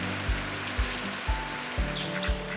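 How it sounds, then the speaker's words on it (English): Early-summer rain falls over open land and an ecological pond, a soft steady patter with trickling water, while a low rhythmic thumping pulses about every half second beneath it. "rain nourishes the land and fills the ecological pond"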